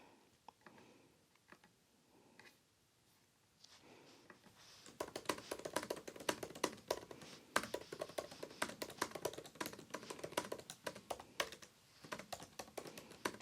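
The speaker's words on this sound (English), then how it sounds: "Let me be quiet and type for you guys." Fingers type on a MacBook Pro 14 keyboard, soft at first and then fast, with crisp clicks coming thick and close together. No one speaks.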